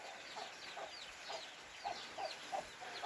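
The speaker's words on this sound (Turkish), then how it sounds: "Size bu tavuğunu göstereyim" Soft, repeated clucking from chickens nearby, a steady run of short calls over faint background noise.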